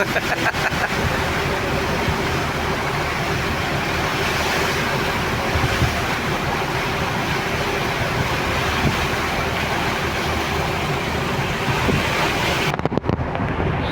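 Steady roar of wind buffeting the microphone over rushing, choppy sea waves off Santorini, Greece, continuous and loud for the whole stretch, cutting out abruptly near the end.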